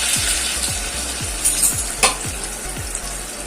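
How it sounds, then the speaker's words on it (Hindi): Bread and potato snack pieces fry in hot oil with a dense, close crackling sizzle, punctuated by a regular series of soft knocks and a few sharper clinks from stirring, with no talking. "अब एक एक पीस हमें इसमें डाल लेना है, और इसे हमें फ्राई कर लेना है।"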